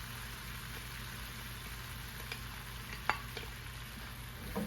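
Meat sizzles and bubbles in sauce in a pan, a soft continuous frying hiss with a few faint clicks and stirring taps from close range.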